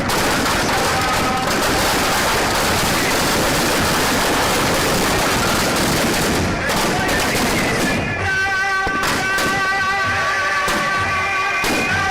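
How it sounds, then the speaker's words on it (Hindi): Dense, continuous crackling bursts and rapid bangs of fireworks let off during a Dussehra Ravana effigy burning, loud and close, with ongoing popping and sharp volleys throughout and a slight easing of the barrage near the end. "इस दौरान जमकर आतिशबाजी की गई"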